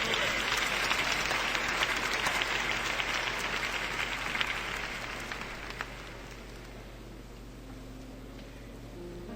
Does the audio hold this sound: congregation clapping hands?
yes